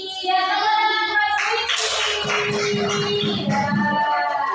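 A group called Sweetie receives applause at a community event: a voice speaks briefly, then a crowd breaks into sustained hand clapping that continues to the end.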